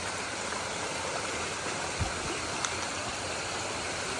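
Mountaineer Falls, a waterfall and stream on the Appalachian Trail, roars as a steady broadband rush of falling water, close and continuous, with a brief knock partway through and no voices.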